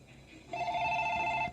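A telephone at a Tokyo health center swamped with COVID-19 test inquiry calls rings with a bright, steady electronic trill, starting suddenly after a moment of quiet room noise and sounding close and clear.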